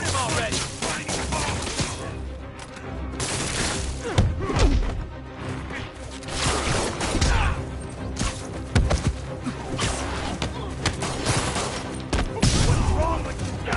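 Thugs open fire in the Marvel's Spider-Man video game, with chaotic bursts of gunshots mixed with heavy smashes, thuds and impacts, loud and continuous, while voices shout over the fighting.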